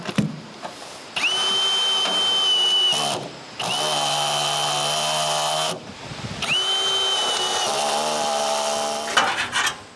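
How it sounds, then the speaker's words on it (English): A power drill drilling holes in roof tiles whines in two long sustained bursts with a pitch that rises as it bites, separated by short pauses, close and loud. "I need to cut each tile in half and drill holes before screwing them in"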